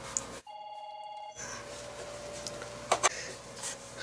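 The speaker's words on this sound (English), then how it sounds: "phone ring, so I just wanted to shut that off." Telephone ringing in a room during a tree-painting lesson: a brief steady electronic ring, moderately loud against background hum, followed by a couple of short clicks as it is shut off.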